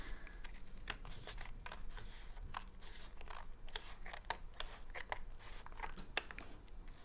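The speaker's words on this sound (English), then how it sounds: "you just want to take your scissors to any edges that go over" Scissors trim overhanging edges of collage paper, with a steady run of sharp, close snips and crisp cutting clicks throughout.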